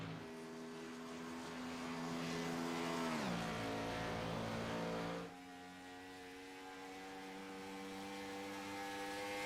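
The number 84 NASCAR stock car laps a quad oval through turn 4 during qualifying for the 2007 Pep Boys Auto 500. A steady, loud engine roar dips sharply in pitch as the car passes, then settles into a lower, continuous drone.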